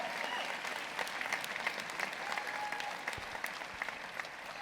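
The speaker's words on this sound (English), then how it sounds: "Yeah, go ahead and applaud." A graduation audience at a 109th commencement ceremony applauds, a dense, steady wash of clapping from a large crowd heard at a distance, continuous for the whole stretch.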